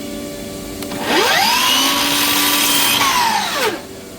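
A power saw trimming a sliver off a white oak board during a kitchen remodel: a motor spins up to a loud whine, holds through the cut, then winds down, close and alone.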